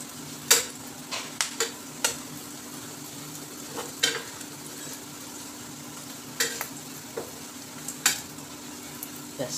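Fish roe fritters fry in a pan with a steady low sizzle, while a metal spatula flips them, giving sharp scraping clicks and taps at irregular intervals, close by with no talk.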